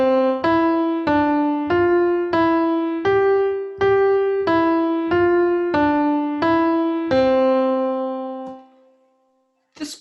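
A piano runs quickly through a five-finger pattern, about ten evenly spaced, clear single notes stepping up and back down, then a held final note rings out and fades to silence.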